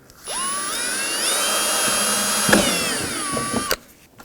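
Power drill driving a screw into a mud flap on a 2005-2009 Chevy Equinox, a steady whining motor held for about three seconds with a rising pitch at the start, close and loud, ending in a brief clatter.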